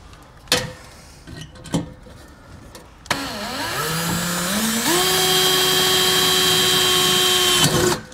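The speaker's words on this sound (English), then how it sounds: "I can drill out my other hole and get my second rivet in place" A power drill bores a hole during the mounting of a Wheel Masters 4-hose inflation kit on a 2022 Jayco Alante motorhome, a few short knocks first, then a loud, close, sustained whine that rises in pitch and holds steady before stopping.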